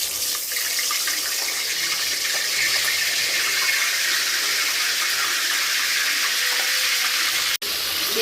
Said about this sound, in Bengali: রোস্টটা এখন ভাজবো